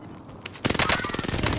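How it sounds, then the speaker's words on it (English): Rapid automatic gunfire in a Warzone Resurgence match, starting after a quiet half-second with a loud, dense burst of shots that continues to the end, close and unbroken. "Shoot through the bloody tent, Owen."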